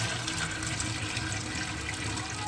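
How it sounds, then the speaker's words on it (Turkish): Water drains steadily from soaked sprouting wheat through a strainer, a continuous close rushing and splashing pour with no pauses throughout. "Yani suyumuzu döktükten sonra şöyle bunu suyumuzu döküyoruz."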